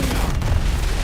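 A frag grenade going off in an online shooter game, heard as a single dense, loud boom with a rumbling low body that fills the whole moment, with no voices over it.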